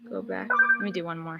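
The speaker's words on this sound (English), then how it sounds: "That was my phone." A phone rings briefly indoors during felt muffin crafting, its steady electronic tone partly buried under a person talking close to the microphone.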